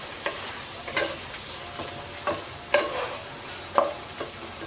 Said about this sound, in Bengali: হলুদ গুঁড়া, মাংসটা হালকা একটু ভেজে নেব।